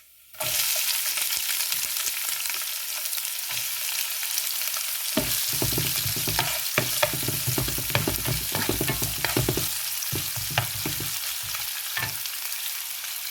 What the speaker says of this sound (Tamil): இப்போ நாங்கள் வெங்காயத்தை போடுவோம்.